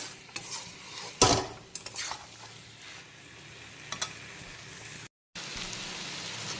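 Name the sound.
potatoes being stir-fried with spices in a pan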